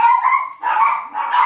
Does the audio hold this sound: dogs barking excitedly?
yes